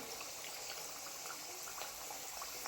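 Kapnya, Marathi Ashadh-special sweets, fry and puff in hot oil, giving a steady close sizzle with faint bubbling crackles throughout and no talking.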